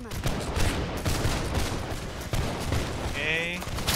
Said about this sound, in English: Line on left, aim and fire!